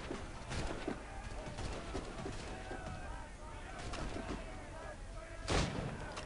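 A single loud, sharp gunshot rings out near the end during Assassin's Creed Rogue gameplay, a headshot standing out over a steady outdoor ambience with bird calls and coos and a voice.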